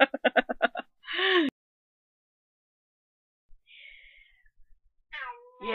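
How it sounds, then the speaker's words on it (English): A pet cat gives several short meows separated by a long pause, close and clear, with a brief burst of indistinct chatter at the start. "Yeah, meow for me."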